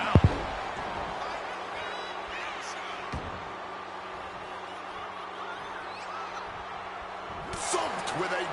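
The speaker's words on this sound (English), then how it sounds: "Thumped with a big blow" Body slam in a WWE 2K26 wrestling match: a sharp thud at the start and another impact later, over a constant arena crowd bed and commentary.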